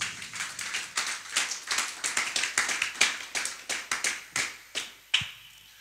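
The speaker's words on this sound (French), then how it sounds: "Acclamons pour le Saint-Esprit." Applause during a church sermon: a small group claps close by in quick, uneven bursts for several seconds, thinning to a few final claps, with no talking.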